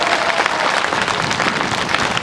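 Dense applause from a large crowd at a political rally in Ayodhya, continuous steady clapping throughout at close range, with no speech over it.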